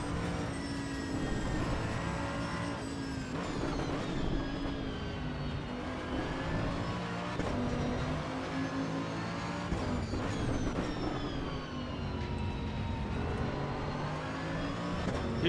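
A race car in Assetto Corsa Evo on the Nürburgring roars through its revs, the dense engine note swelling and dropping with quick gear shifts, loud and continuous with no talk over it.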